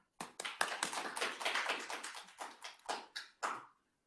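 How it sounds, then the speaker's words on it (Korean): A small audience claps to welcome a professor to a lecture on accounting, sparse individual hand claps in an uneven rhythm that thin out into a few separate claps before stopping. "이용규 교수님 큰 박수로 맞으시기 바랍니다"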